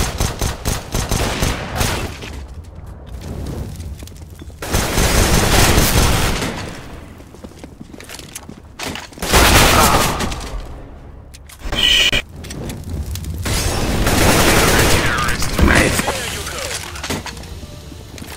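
Counter-Strike: Global Offensive gameplay with loud bursts of gunfire and rapid shots in several waves, broken by brief quieter gaps, while players talk over the action.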